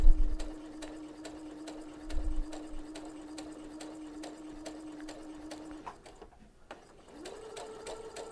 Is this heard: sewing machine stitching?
yes